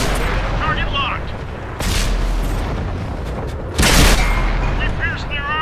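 Tank cannon shots in World of Tanks, from a Pz.Kpfw. V/IV, land as two heavy booming blasts a couple of seconds apart. Radio-style game voices and metallic clanks fill the gaps.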